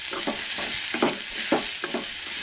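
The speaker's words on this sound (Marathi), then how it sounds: "तो कानो बरो परतून घेवंक जाय." Sliced onion sautéing in a hot pan with ginger and garlic for a Goan button mushroom curry, a steady close sizzle broken by several sharp stirring scrapes, with no talking.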